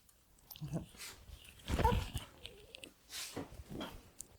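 A dog close by makes soft snuffling, chewing and whimpering noises in short bursts, with quiet gaps between.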